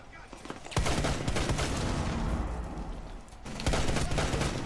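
Gunfire in the game Rainbow Six Siege, a dense loud burst of rapid automatic shots with a brief lull before another heavy volley at the end.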